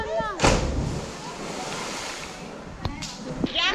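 A person jumps into a river in Costa Rica and hits the water with a loud splash, followed by sloshing water and steady rushing wash, with more splashes near the end.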